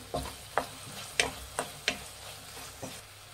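A spoon scraping through dal fry with ginger garlic paste in a pan, making about seven quiet, evenly spaced scrapes and taps over a faint background sizzle.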